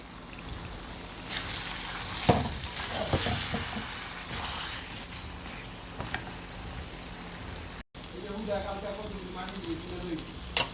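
Chicken added to sizzling spice masala in a pan: a loud hiss and crackle bursts in as the pieces go in, then the frying continues steadily with occasional stirring scrapes, close up, with no voices.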